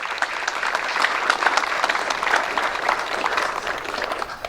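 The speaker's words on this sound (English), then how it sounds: "let's give them a round of applause" An audience at a fishing derby awards ceremony claps steadily, a moderately loud burst of applause with individual claps audible, sustained throughout without any voices.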